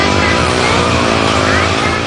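Stunt motorcycles at the XDL stunt biking championship at Buddh International Circuit in Greater Noida race by with loud, continuous engine roar and revving close by, and there is no break in the noise.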